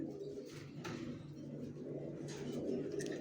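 Original racer pigeons of Johnson breed, big-sized males and females, coo in low repeated throaty phrases, close by and fairly soft, with a few faint chirps above.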